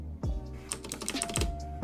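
Rapid, uneven clatter of keys being typed on a computer keyboard while writing code for a Discord bot, close and clear with short bursts and pauses and no talking.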